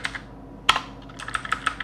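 Computer keyboard typing while Python code is entered, a short burst of light, close clicking keystrokes in an irregular rhythm with one sharper tap among them.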